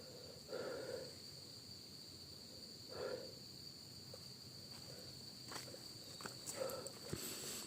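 Crickets chirp through a forest at night as a steady, high insect trill across the whole stretch, with a few soft rustles and footstep-like scuffs rising intermittently beneath it and no voices.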